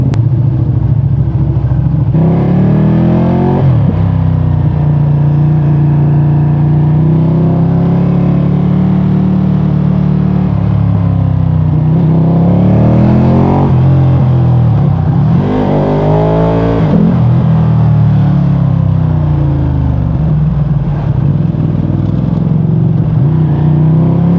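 Ducati Streetfighter V2 motorcycle on its first ride, engine loud and close, repeatedly revving up and easing off with rising and falling pitch across several gear pulls.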